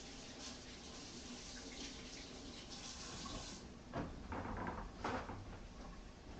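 Running water from a tap splashes steadily as hands are rinsed after crunching bitter melon, fairly faint and continuous, with a few louder splashy bursts toward the end.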